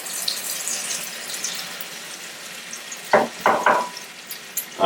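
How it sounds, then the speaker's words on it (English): Bacon grease spitting in an overheated pan on low heat makes a faint broadband sizzle, broken by three or four louder hissing bursts near the end, with no talking. "So that's just the bacon grease burning away"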